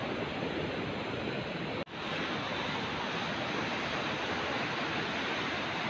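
Ocean waves break at Karapyak beach in Pangandaran, a steady, loud wash of surf and wind noise filling the whole stretch, with one brief dropout partway through and no voices.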